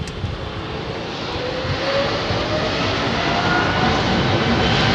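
Boeing 747 jet engines spooling up to takeoff thrust, a loud, steady broadband roar that swells slightly and holds without any talk.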